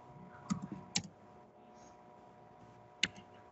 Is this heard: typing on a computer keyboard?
yes